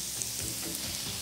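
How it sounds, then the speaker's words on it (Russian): Mushrooms and onions fry in a pan, giving a steady, close sizzle with soft crackles throughout. "Вот у меня как хорошо жарятся грибы с луком."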